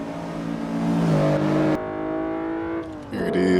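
Volkswagen Jetta accelerating along a race track's back straight, its engine note rising steadily, easing briefly, then climbing again as the car pulls smoothly through the gears, heard from inside the car.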